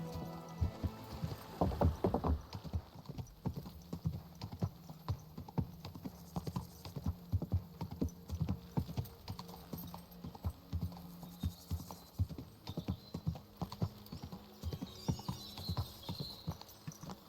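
Horse hooves clip-clopping at a steady riding gait in the game Kingdom Come: Deliverance II, a continuous close rhythmic beat with faint creaking tack and background music, no voices.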